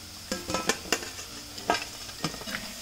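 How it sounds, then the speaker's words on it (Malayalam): Chicken frying in a pan for dynamite chicken, with repeated stirring scrapes and utensil clinks over a steady sizzle, close and moderately loud, no talking. "ബാക്കിയിരിക്കുന്ന ചിക്കന് നമുക്കിതുപോലെ തന്നെ ഇട്ട് ഫ്രൈ ചെയ്തെടുക്കണം"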